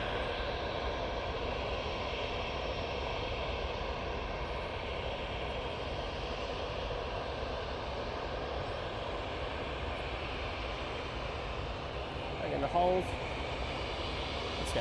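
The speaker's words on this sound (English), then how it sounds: "This Jet's coming on." A jet aircraft at Manchester Airport roars with a steady, broad engine rumble throughout, fairly loud and continuous, with a brief brighter whine near the end.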